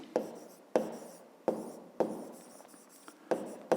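A math solution is written out by hand, with about seven distinct pen strokes, each a short scratchy burst that fades, coming in an uneven rhythm up close and quiet.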